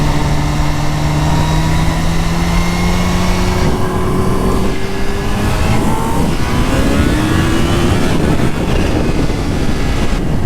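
A supercharged Kawasaki Ninja H2 Carbon motorcycle engine revs loud and close, its pitch climbing in sustained sweeps, dropping briefly, then rising again in a continuous high-speed whine.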